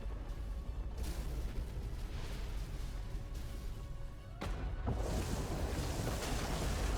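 A deep explosion rumbles through the Sand Land video game, a dense roar of low booming noise that surges again after a brief dip midway, loud throughout.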